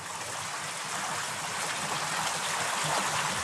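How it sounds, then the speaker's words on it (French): Steady, close murmur of the Dourdou river flowing through the Bozouls canyon, a continuous broad hiss and trickle of moving water with no voices. "Ce qui me plaît, le murmure de l'eau."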